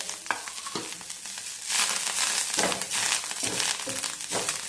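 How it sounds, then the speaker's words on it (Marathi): Garlic cloves and coriander sauté in a hot pan for a spicy drumstick and potato curry, with a steady crackling sizzle broken by a few louder bursts as the pan is stirred. "या लसूण पाकळ्या यामध्ये घालणार आहे आणि कोथिंबीर थोडीशी परतवून घेऊयात"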